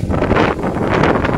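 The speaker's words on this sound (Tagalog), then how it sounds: "Ang hangin dito." Strong wind buffets the microphone with a loud, steady roar, rushing and gusting without pause, during severe flooding in Calumpit, Bulacan.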